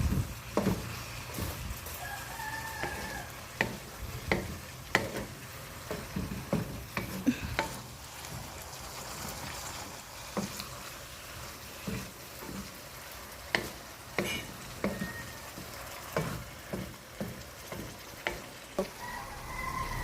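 Adobong balatong, mung beans stewed in a pan, cooking with a quiet constant sizzle broken by frequent sharp clicks and taps of stirring, faint and close with no talking.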